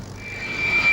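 A de Havilland propeller aircraft with opposite-rotating propellers drones steadily in a brief, moderately loud engine passage with a sustained tonal whine.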